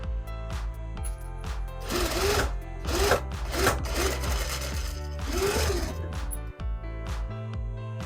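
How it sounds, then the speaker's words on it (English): A sewing machine runs a seam on a tote bag strap, a continuous close mechanical whir with rhythmic rubbing pulses of the fabric feeding through, steady throughout. "we're going to stitch the seam here to make this one piece."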